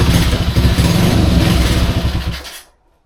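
A Honda C200 motorcycle engine sputters to life in a shed, running loud and close with a rapid uneven beat for about two and a half seconds before cutting out abruptly into silence.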